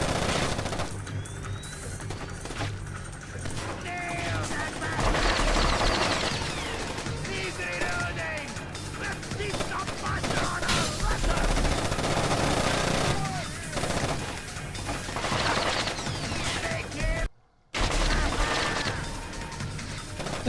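Near-constant gunfire and crashing impacts in the stealth game Splinter Cell: Chaos Theory, dense and loud throughout the stretch, with repeated bursts layered over game noise and a brief dropout near the end.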